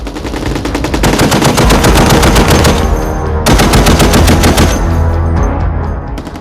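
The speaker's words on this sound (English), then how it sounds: "machine guns, both light and heavy, are used here" Light and heavy machine guns, such as M240, M249 and M2 .50 caliber Browning, fire loud rapid bursts at a military test range, a dense rattling stream of shots with a short break midway.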